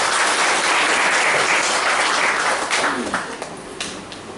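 A church congregation at a sermon claps together in praise of God, with a loud, dense burst of applause that thins into a few scattered claps before fading out.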